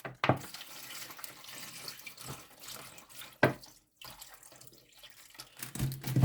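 Water is poured into a container holding toys to rinse sand off them, giving intermittent splashing and trickling pours with short pauses between, close and moderately loud.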